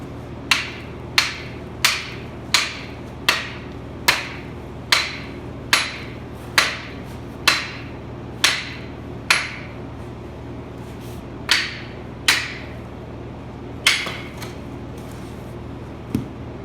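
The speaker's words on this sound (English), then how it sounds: "I'm just going to beat it off with the sledgehammer" A sledgehammer pounds on a part to free it from a Ram 2500 leaf spring, about twenty sharp metallic strikes at a steady rhythm, each ringing briefly, with short pauses between.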